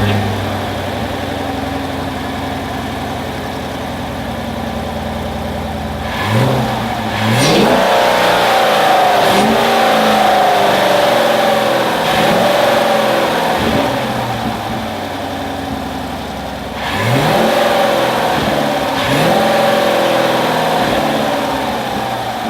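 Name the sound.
2017 Chevy Camaro SS engine revving with K&N intake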